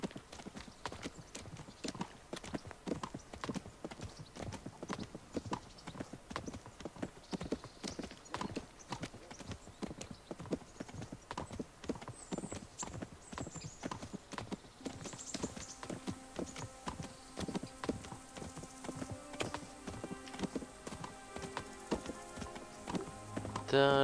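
Horse hooves clip-clop steadily through a ride in the medieval video game Kingdom Come: Deliverance, a continuous rhythmic trot under a game soundtrack, with a brief whinny and some talking layered over it.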